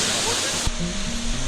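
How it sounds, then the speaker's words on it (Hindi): The Kundbanda waterfall in Kumrat Valley, Pakistan roars as a loud, steady broadband rush close by, with a voice speaking over the falling water partway through. "वाटरफॉल सामने से बहुत ही खूबसूरत लग रही है।"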